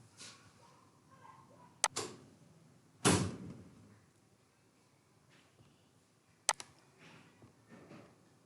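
Computer mouse clicks while filling in an online application form, a few sharp isolated clicks spread over several seconds, close and quiet in an otherwise near-silent room.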